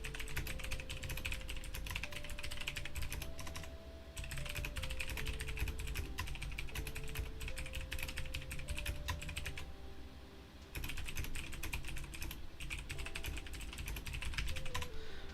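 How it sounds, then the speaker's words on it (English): Rapid typing on a computer keyboard, a dense run of close clicks and key taps that pauses briefly twice, with faint tones playing underneath and no speech. "sorry I'm typing a bunch."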